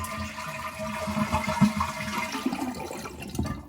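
A household toilet with a multi-turn stop valve is flushed but drains poorly, giving a sustained rushing, gurgling wash of water that swells and churns for several seconds close by.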